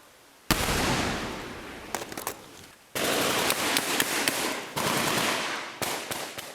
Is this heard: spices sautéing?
no